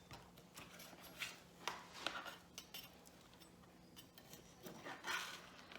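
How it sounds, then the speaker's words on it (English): A big knife cuts a pizza quesadilla into four pieces, giving faint, scattered clicks and taps of the blade against the board, quiet and close. "just cut it into 4 pieces"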